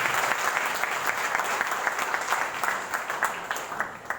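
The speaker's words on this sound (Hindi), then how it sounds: "तो एक बार डेजॉय के लिए ताली होनी चाहिए।" An audience claps steadily at a banquet event in Ranchi, a dense crackle of many hands from start to finish with no voice over it.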